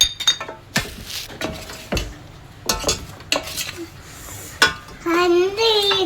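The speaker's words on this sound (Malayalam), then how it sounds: "ഇനി നമുക്ക് ഈ സ്പൂൺ വെച്ച് മിക്സ് ചെയ്ത് കൊടുക്കാം." A spoon stirs egg into chicken lollipop batter in a bowl, giving scraping and clinking strokes in uneven bursts, close up, with people talking over parts of it and a sizzling or whining tone near the end.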